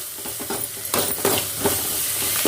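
Sliced snake gourd and onion sautéing in a pan, a bright sizzle and hiss with stirring scrapes that swell after the first second.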